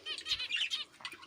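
Pet bird flapping its wings inside a cage, a brief fluttering rustle of quick wingbeats lasting about a second, close and fairly soft.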